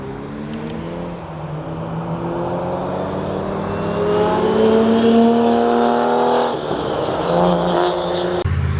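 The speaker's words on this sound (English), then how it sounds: "Mark IV Supra, 1700 wheel, it's about to take off" A 1700-wheel-horsepower Toyota Supra Mark IV pulls away at a car meet, its engine note climbing through rising revs and getting louder before a brief dip and a renewed surge near the end.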